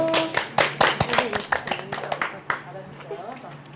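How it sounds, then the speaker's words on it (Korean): Students clap in a math classroom to praise a correct answer, a scattered burst of close hand claps that thins out after a couple of seconds, with voices chattering around it. "박수"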